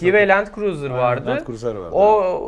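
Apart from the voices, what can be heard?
None of the usual background noises is heard.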